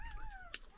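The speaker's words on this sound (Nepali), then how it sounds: "दुईटा छाउरा बेरिरहेको थियो, कराएकै छ" Newborn puppies from a fresh litter whimper and cry in a thin, wavering high-pitched whine, with one sharper yelp near the end, close by and otherwise alone.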